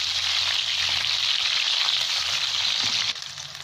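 Dried chillies, onion and garlic fry in hot oil, giving a steady, bright sizzle and crackle that drops a little in loudness near the end.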